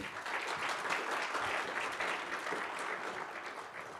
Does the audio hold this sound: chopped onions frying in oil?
no